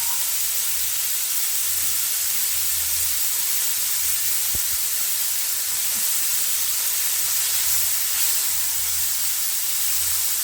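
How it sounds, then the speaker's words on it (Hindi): Beans and mushrooms sauté in a pan over a high flame, giving a steady, even sizzling hiss that runs unbroken throughout. "थोड़ा सा हाई फ्लेम पे मैं इन्हें सौते कर देती हूँ"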